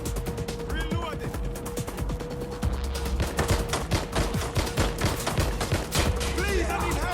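Rapid bursts of automatic gunfire in the game Watch Dogs Legion crackle steadily throughout, dense and loud, with voices shouting over the shooting.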